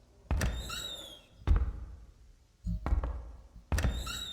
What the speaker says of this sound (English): Closing all the doors.